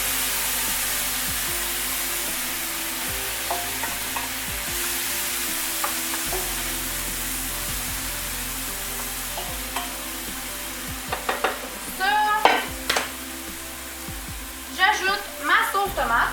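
Mushrooms stir and sizzle in a frying pan for pasta in rosé sauce, with a constant hiss from the pan broken by utensil scrapes and stirring clatter that grow busier toward the end.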